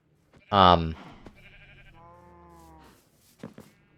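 A sheep in a video game gives one loud, close bleat, followed by quieter wavering game tones and a brief later sound, with a person talking faintly near the end.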